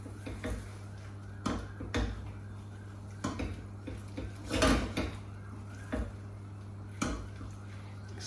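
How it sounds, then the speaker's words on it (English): Mint sauce stirred in a pan with a utensil, making a handful of scattered knocks and scrapes against the pan, close by, over a steady low hum. "Give that a good stir"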